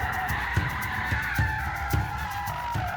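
An FQ360 Japanese rally car drones with a high-revving engine as all four wheels spin, tyres scrabbling in a rhythmic series of sharp thumps and squeals.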